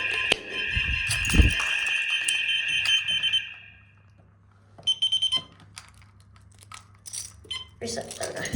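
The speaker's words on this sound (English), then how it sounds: "I'm testing fire alarms" A fire alarm at a community centre sounding during a test, a loud steady tonal ring for about three seconds that then cuts off, followed by rustling, short beeps and bits of voice.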